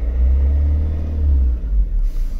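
A Nissan Primastar van diesel engine with a boost pressure sensor fault starting up, a loud deep rumble that settles toward a steady idle, heard close.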